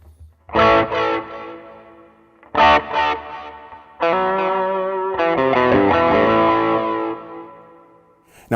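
Electric guitar through a Line 6 HX Effects processor with chorus echo and added reverb: two short bursts of picked notes, then a longer loud strummed passage that blooms and decays into a lingering wash.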